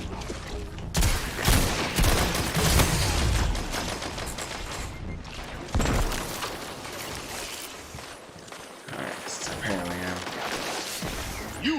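Rapid gunfire from a Destiny Trials of Osiris match, with dense bursts of shots and impacts continuing almost throughout and a player voice talking over the action.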